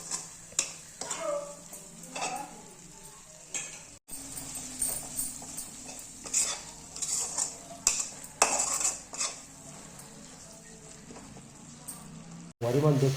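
A masala for a mushroom (putu) dish fries in oil with homemade garam masala. A spoon scrapes and clatters against the pan in uneven bursts, sometimes under a speaking voice, with a soft sizzle beneath.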